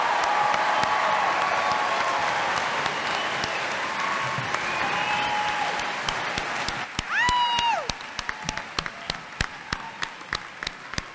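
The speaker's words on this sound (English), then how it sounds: "can we get one last round of applause for all of our graduates" An audience at a college commencement gives graduates dense, sustained applause with a few whistles and cheers, which thins in the last seconds to scattered individual claps.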